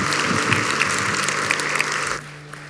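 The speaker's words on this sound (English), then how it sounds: "So clap, hoop it up" Church congregation applauding and cheering during an Easter service, a dense steady wash of clapping with a few whoops that carries on for about two seconds, then quickly dies away to a faint room murmur.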